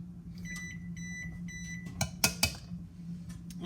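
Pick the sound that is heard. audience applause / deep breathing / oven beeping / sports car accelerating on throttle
oven beeping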